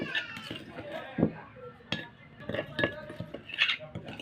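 Multani mitti face cream, made with honey and aloe vera gel, being mixed in a bowl: scattered light clinks and scrapes of a utensil against the dish, irregular and close, with a voice talking over them.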